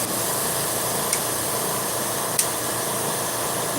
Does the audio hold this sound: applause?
no